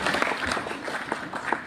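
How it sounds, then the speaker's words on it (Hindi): Audience applause at a live talk in Hindi, a brief burst of many hands clapping, dense and steady at moderate loudness. "एक बार जोरदार ताली बजाइए"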